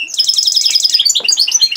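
Pekin robin chicks near their nest give rapid, bright, high chirps in a dense run that repeat close and loud, with a short pause before a second burst of calls.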